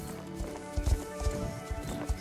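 Horse hooves clip-clop at an easy pace in Star Stable Online, a series of hollow thuds landing about every half second, moderately loud and close.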